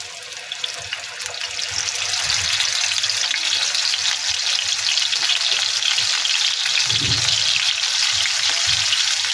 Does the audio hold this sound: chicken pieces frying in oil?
yes